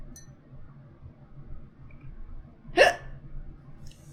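A single sharp hiccup pops out close by in an otherwise quiet room.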